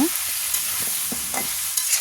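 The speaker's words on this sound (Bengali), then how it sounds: "আমি আলুগুলো দিয়ে মাংসটা একটু ভালো করে ভেজে নেব" Potatoes and chicken fry in a pan, a continuous close sizzle broken by several scraping stirs of a spatula.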